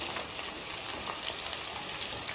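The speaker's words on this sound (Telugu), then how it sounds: "ఇలా వేయించుకోవడం అనమాట." Okra frying in a pan gives a steady, dense sizzle and crackle, even and unbroken throughout, with no talking.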